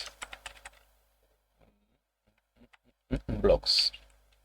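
Computer keyboard typing while writing JavaScript code: a quick run of light clicks, then scattered taps, with someone speaking briefly near the end.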